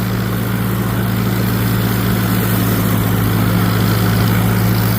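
Farmall Cub tractor running steadily while mowing an old pasture field, a loud, constant low engine drone with a deep hum that stays even throughout, no voices.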